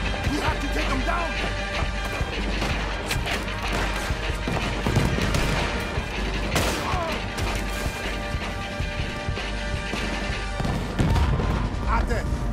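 Gunfire and cannon blasts in the video game Red Dead Redemption 2, repeated loud shots and crashing impacts over a busy battle din, with people talking throughout.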